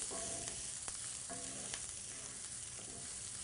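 Pine nuts toast in a dry pan with a faint, continuous sizzling hiss and a few soft clicks, quiet and steady throughout.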